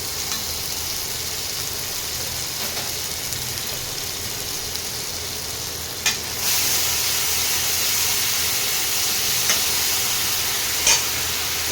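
Mustard, poppy seed and green chili paste sizzling and frying in oil for a tengra fish curry, a steady close hiss with a brief louder burst of sizzle midway and occasional stirring clicks, no talking.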